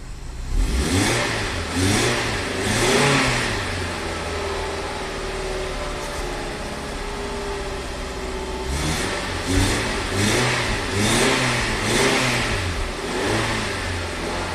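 A barely-running Nissan Sentra with suspect spark plugs idles roughly and is revved in repeated rhythmic pulses. A pause in the middle separates the two sets of revs, and no one speaks.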